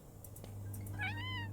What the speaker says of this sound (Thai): เฮ้ยแมวเหรอ